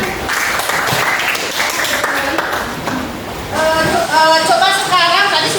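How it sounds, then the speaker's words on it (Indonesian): A class applauds group 5 in a university civic education lesson, with brisk clapping from a roomful of students and chatter mixed in, then a sharper, louder burst of claps near the end. "Tepuk tangan untuk kelompok 5."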